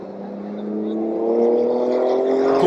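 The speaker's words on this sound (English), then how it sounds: "Here comes the safety car too." A safety car passes along the circuit at a MotoGP race day in Jerez de la Frontera, a steady engine drone that swells gradually as it approaches, heard alone without talk.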